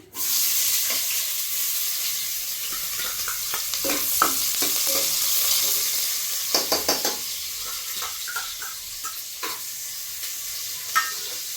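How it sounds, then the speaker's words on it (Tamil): Onions frying in hot oil right after mustard seeds have popped, for a Sunday chicken dish: a steady bright sizzle runs throughout, broken by scraping stirs and small clinks, with no talking. "இப்போ கடுகு பொரிஞ்சிருச்சு வெங்காயம் போட்டுக்கலாம்"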